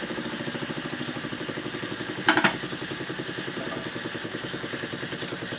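An antique Empire toy steam engine chuffs in a fast, steady mechanical rhythm with a high-pitched whine running through it and a brief louder burst midway, close and continuous.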